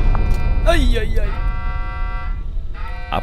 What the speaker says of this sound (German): Ach nö, ups, der Wecker.